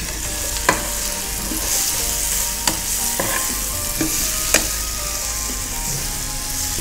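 Koftas frying in a tomato masala as a spoon stirs them around the pan, making a loud continuous sizzle with sharp clacks and scrapes of the utensil at intervals, up close and with no one speaking.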